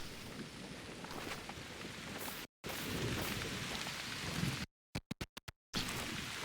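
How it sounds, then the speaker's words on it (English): Steady rain pours throughout a hunting game's flooded Mississippi farmland map, with a low rumble of distant thunder beneath it. The wash of rain breaks off briefly twice. "I figured the rain would be a near constant"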